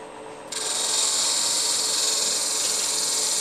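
Continuous rough rasp of a sanding cylinder grinding down wood on a power tool, starting abruptly after a brief quiet moment and holding steady and loud close by.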